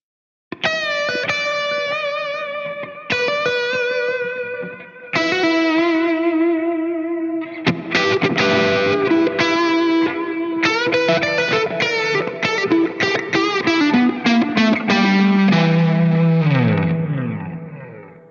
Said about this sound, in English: this is the faux tape echo with some plate reverb